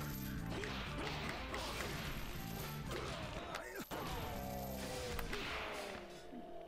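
Loud, dense crashing and thwacking hits from smashing enemy rib cages in the One Finger Death Punch video game, a rapid continuous barrage of impacts and whooshes over game music.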